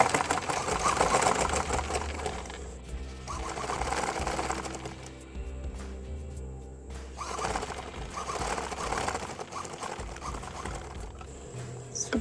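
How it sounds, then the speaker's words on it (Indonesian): A sewing machine stitches a scuba fabric face mask, running steadily up close for several seconds, with a brief slowdown in the middle before it picks up again. "Langsung dijahit bekas yang kita tandain tadi."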